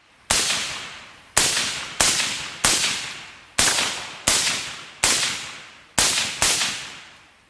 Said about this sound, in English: Suppressed 223 rounds generally disappoint people who hear them for the first time. They still break the sound barrier and are very loud.